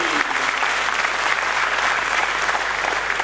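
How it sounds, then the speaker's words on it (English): A crowd breaks into sustained, dense applause for a panel at the close of an economics discussion session, loud and steady throughout with a faint voice beneath. "a big round of applause for the entire panel"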